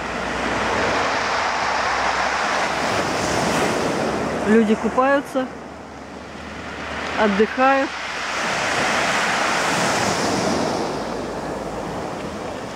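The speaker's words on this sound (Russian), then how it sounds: "Вот такая волнища." Broad roaring surf from crashing Black Sea waves on the beach at Adler, Imeretinka, fills the clip, swelling and receding, with someone talking briefly twice over the noise.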